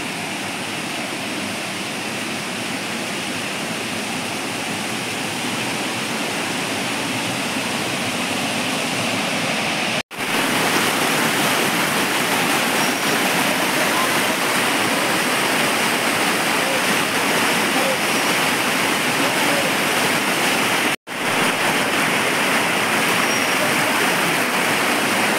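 A hidden waterfall deep in dense jungle roars as a steady, loud, broadband rush of falling water, unbroken for the whole stretch apart from two brief cuts.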